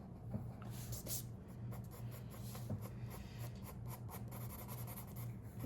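Pencil scratching and rubbing on paper while erasing a drawn shell outline beneath a strap on a cartoon Ninja Turtle sketch, a steady close rasping texture with no talking.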